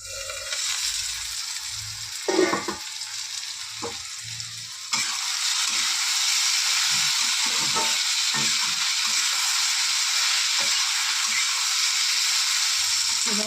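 A ground paste of onion, tomato, ginger, garlic and green chili goes into hot oil in a pan for soybean egg curry. It gives a steady close sizzle that grows louder and fuller partway through, with a few soft clinks early on.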